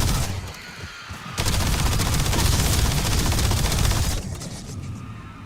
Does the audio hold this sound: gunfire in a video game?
yes